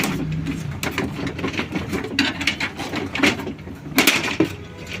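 Parts of a Samsung 5835 laser printer being handled as its duplex unit is pulled out: a run of close plastic clicks, knocks and scraping rattles with a few sharper snaps, no talking.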